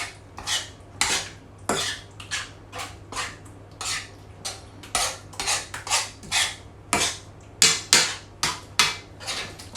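A metal spoon clatters against a pan as sauce is mixed in for butter chicken, with steady rhythmic scraping and clinking strokes repeating for the whole stretch, close and fairly loud.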